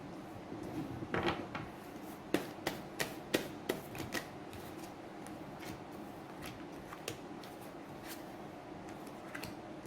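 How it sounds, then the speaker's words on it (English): Tarot cards shuffled and pulled from a deck, heard as a quiet run of soft riffling and a series of sharp, separate card snaps and taps, close up with no talking. "I want to pull these cards out"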